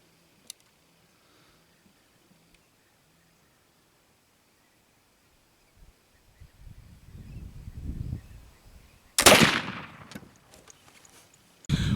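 A rifle loaded with homemade black powder fires outdoors: after near silence and some low rumbling handling sounds, a single loud close blast cracks out and decays, followed by faint rustling.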